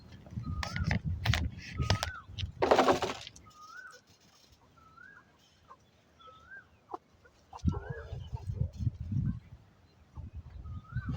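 Large hens cluck in repeated short calls at a farmyard, moderately near, with louder bursts of other noise and some background voices at the start and end.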